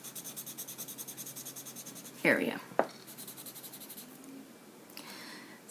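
A jet-black ebony pencil scratches across paper in steady back-and-forth strokes, close up, with a short spoken word and a couple of louder handling noises midway.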